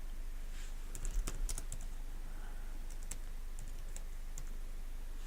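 Keystrokes on a computer keyboard, a few brief clustered taps around the one-to-two-second mark and sparse single clicks after, faint and close against a steady low hum, no voices.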